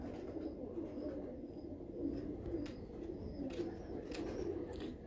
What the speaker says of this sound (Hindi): नीले कमग्गर कबूतर हैं ये।